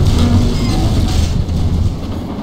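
Train cars collide in Garry's Mod, a low, continuous rumble with clanking rail noise that stays loud and steady throughout, with no speech over it.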